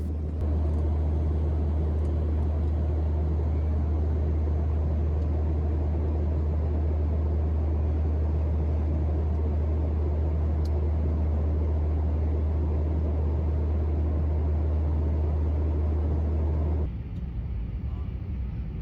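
Steady low roar of an airliner cabin as the flight circles above Mumbai airport before landing, a constant loud drone holding for most of the stretch and then dropping in level near the end.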